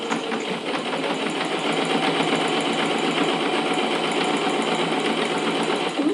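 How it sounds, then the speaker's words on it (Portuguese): A sewing machine runs steadily, stitching bias binding onto fabric for a small round zip pouch, a close, continuous mechanical whir with a fast needle rhythm for about six seconds and no voices. "Vou costurar novamente."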